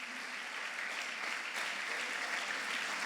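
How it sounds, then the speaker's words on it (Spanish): A church congregation applauds for Jesus in a soft, dense, continuous clapping that holds steady for a few seconds with no speech over it. "Dele fuerte ese aplauso a Jesús."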